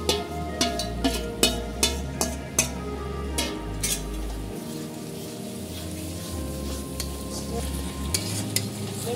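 Marinated chicken sizzles in a pan while being stirred into biryani masala, a steady frying hiss under rhythmic metal spatula clanks. The clanks are frequent at first, then the stirring turns softer.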